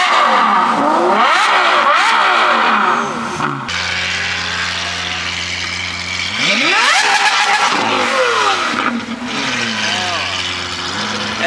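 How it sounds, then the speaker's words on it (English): A Lamborghini SVJ's V12 revs hard in repeated rising and falling bursts, loud and close, with pitch sweeps between blips and crowd noise and voices underneath. "SVJ V12 is music to my ears."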